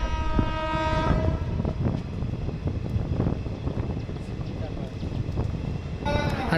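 Rumbling, rattling interior noise of the moving Tebhaga Express (13162, Balurghat to Kolkata) crossing a bridge, with steady wheel clatter, wind buffeting and a faint horn-like tone near the start and end.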